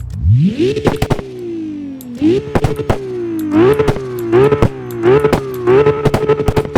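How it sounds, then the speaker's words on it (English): RB26 engine in CarX Drift Racing Online revving hard in repeated bursts, each rising to a high rasping pitch then dropping, punctuated by sharp popping crackles between the revs, loud and close. "Going on to the next engine, the RB26, labeled as the BR26. I'm gonna put the horsepower output up. This is what it sounds like."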